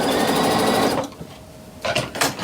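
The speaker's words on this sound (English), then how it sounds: "I'm going to stitch on the top row, just along there on the very top" A sewing machine stitching calico, a loud rapid mechanical whirr that stops after a second, then two short bursts of stitching, close and with no talk.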